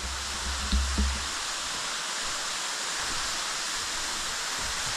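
Water pouring and rushing into a cave, a steady broad roar like a waterfall that fills the space continuously, with a brief low thump near the start.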